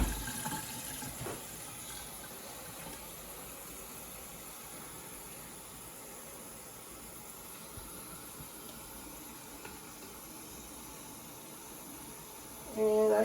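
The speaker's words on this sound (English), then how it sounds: "Fill it with some cold water." Cold water pours steadily into the reservoir of a Keurig K-Compact coffee maker, a constant close splashing trickle that runs for several seconds before a louder clunk at the end.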